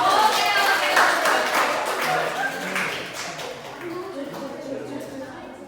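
Classroom audience of high school students clapping for a performing group, dense broadband clatter that starts loud and slowly thins out, with voices murmuring underneath.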